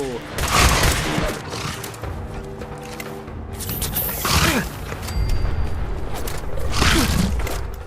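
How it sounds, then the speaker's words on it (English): Missile launcher firing in Fallout 4 at a satellite array, with several heavy booms and bursts of gunfire and mechanical clatter spread across the scene, and voices talking over the action. "You're all on the missile launcher."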